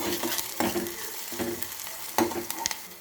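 Onion sizzles in plenty of hot oil in a deep cooking pot for a Maharashtrian zunka, a steady crackling fry broken by a few sharper spoon scrapes and stirs, close and fairly loud with no voices.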